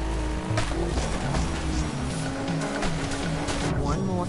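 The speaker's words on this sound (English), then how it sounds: "I'm crashing cars!" Cars in the video game Onrush race and crash with whining engines, tyre squeals and impacts, while people talk over the game sounds.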